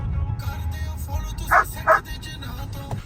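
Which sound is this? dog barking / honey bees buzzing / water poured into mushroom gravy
dog barking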